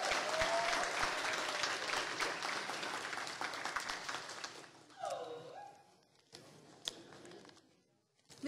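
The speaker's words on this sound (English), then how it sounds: "another round of applause" Audience applause at an athletic fundraiser, a dense patter of clapping that fills most of the stretch and then thins and fades, with a short voice and a few scattered sounds near the end.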